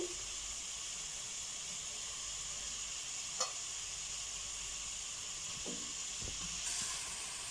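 Half a kilo of chicken added to a pan of sautéed masala for chicken gravy, giving a soft continuous sizzle and hiss with a couple of faint clinks and stirring knocks, quiet and without speech.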